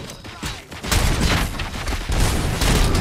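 Grenade explosions and heavy gunfire in RoboCop: Rogue City, dense rapid shots over booming blasts that swell into a sustained roar, loud and close.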